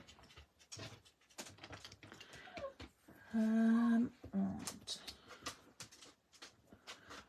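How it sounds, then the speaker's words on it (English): A dog under a desk gives a drawn-out whimpering whine near the middle, amid panting and rustling, with a voice briefly speaking. "My dog is not happy."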